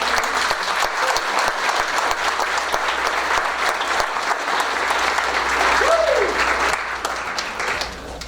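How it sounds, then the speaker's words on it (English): An audience at a school board meeting applauds students in a sustained, dense round of clapping, with scattered voices underneath as it tapers off near the end. "Let's give these students a round of applause."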